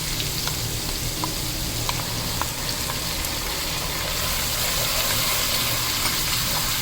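Green chilli paste frying in a hot pan, a dense, constant, even hiss of oil with only tiny pops, close by and holding steady throughout with no voices.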